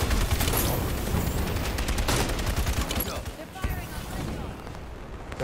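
Rapid, dense gunfire from the Halo 5 video game rattles loudly and almost nonstop in close bursts, with someone talking over it.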